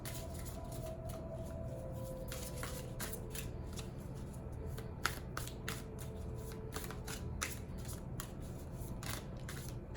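Tarot cards are shuffled and drawn, giving repeated crisp riffling flicks and snaps in quick irregular bursts, close but soft, with no talking.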